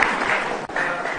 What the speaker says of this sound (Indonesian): kita kasih tepuk tangan untuk gerakan lawan Ahok